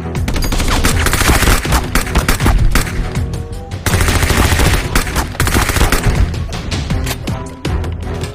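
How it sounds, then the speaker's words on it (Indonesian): Rapid bursts of video game automatic gunfire rattle loudly and almost continuously, with a short pause before the shooting resumes. "Wah lihat ada tembak-tembakan ya teman-teman"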